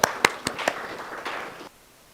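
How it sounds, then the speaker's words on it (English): Scattered claps from a small audience at a regional prosecutors' meeting on trafficking in persons ring out, a few sharp individual hand claps that thin out and stop abruptly. "We should also give ourselves a round of applause for all our contributions"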